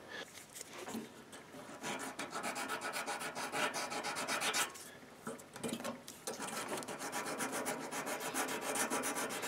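Steady, rapid scraping as corrosion is cleaned off a terminal inside a Breville BM0734XL microwave oven, close and continuous with brief pauses.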